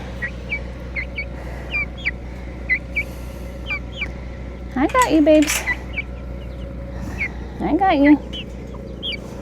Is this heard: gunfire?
no